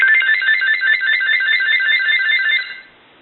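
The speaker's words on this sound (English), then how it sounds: "the handset and the base are both ringing" A GE DECT 6.0 cordless telephone handset and its base ring together, a bright electronic warbling tone that repeats steadily and loud, then cuts off near the end, leaving quiet.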